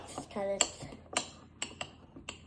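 A spoon stirs cinnamon-spiced mug muffin batter, tapping and scraping against the mug in several sharp clinks; a brief voice is heard early on.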